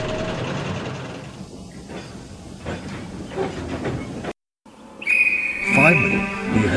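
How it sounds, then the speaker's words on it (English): A sharp, high whistle blows loudly after a brief gap, over the hiss and rumble of a waiting train. "he heard the guard's whistle and set off at once"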